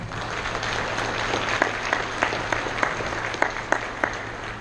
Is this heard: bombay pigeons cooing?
no